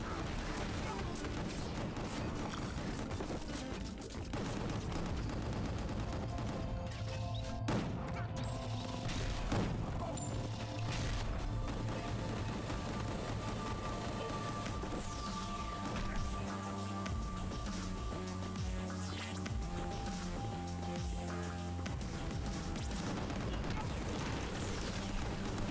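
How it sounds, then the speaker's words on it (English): Heavy gunfire from enemies in the video game Gungrave G.O.R.E., dense continuous volleys and booms running throughout, quite quiet in the mix alongside game music. "There's like lots of dudes shooting me"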